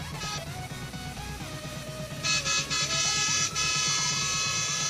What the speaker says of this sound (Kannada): ಮತ್ತು ಹಾರ್ನ್ ಕೂಡ ಚೇಂಜ್ ಇರುವಂಥದ್ದು